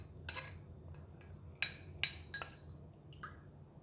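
A spoon stirs tapioca flour and water together in a small bowl, producing soft scattered clinks and taps against the dish at an irregular pace, faint and close.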